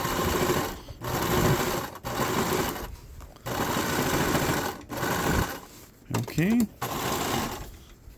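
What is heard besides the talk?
sewing machine stitching a patch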